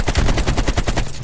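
Rapid automatic gunfire in the multiplayer game Call of Duty Black Ops Cold War, a loud, dense burst of evenly spaced shots running the whole moment with no pause.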